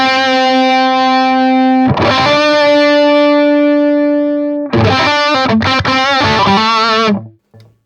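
Distorted electric guitar lead tone through a Vesta amp, loud sustained notes ringing out, then a burst of quick picked phrases before cutting to silence, no talking.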